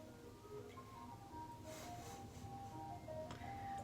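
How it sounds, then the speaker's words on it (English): An ice cream truck drives through a Southern California neighbourhood in winter, its chiming tune faint and distant over a quiet background. "We have the ice cream truck driving through, of course."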